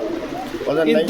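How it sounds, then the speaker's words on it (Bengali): Domestic pigeons, a male and female master pair, giving soft low cooing close by, partly under a man's speech. "এটা নর, এটা মাদি, মাস্টার পেয়ার কবুতর"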